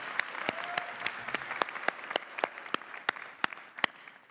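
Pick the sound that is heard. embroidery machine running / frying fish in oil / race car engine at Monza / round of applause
round of applause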